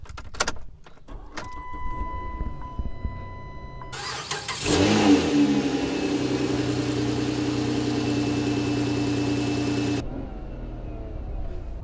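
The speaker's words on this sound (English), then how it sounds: "Why don't we hop in, go for a drive," A 2009 Dodge Avenger car engine starts with a brief whirring crank and settles into a steady, loud hum that runs for several seconds before cutting off, with electric whines and clicks at the start.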